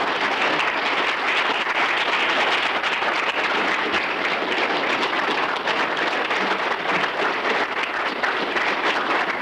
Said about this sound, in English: Let's give the brother a round of applause.